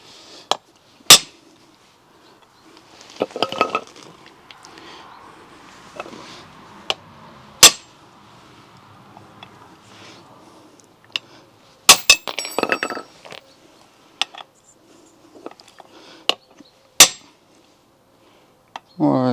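A 300,000 km Jeep part is hammered hard, giving sharp, loud metallic strikes spaced irregularly over quieter clinks and handling noise, with scattered impacts throughout.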